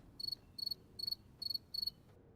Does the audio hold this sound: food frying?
no